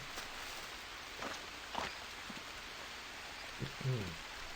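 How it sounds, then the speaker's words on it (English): Steady rain hiss in the jungle survival game Green Hell, a continuous wash of falling water with a few soft footstep-like thumps and light knocks over it, moderately faint. "Now, even though it's raining, unfortunately, doesn't help with your hydration."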